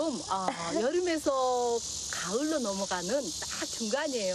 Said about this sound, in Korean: 매미부터 시작해서 곤충이 엄청 많아요.